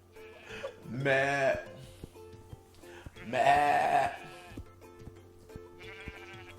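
A voice imitates a sheep's bleat, two drawn-out wavering "meh" calls separated by a pause, with quiet background murmurs.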